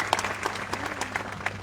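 Scattered clapping from a crowd at an employees' association protest, in support of the army, with sparse individual claps standing out over a low background hum.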